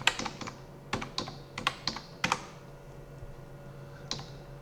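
Typing on a computer keyboard, with sharp clustered keystrokes in short irregular bursts, then a pause and a final lone tap, close and fairly quiet with no talk.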